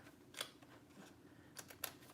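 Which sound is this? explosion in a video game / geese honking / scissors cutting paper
scissors cutting paper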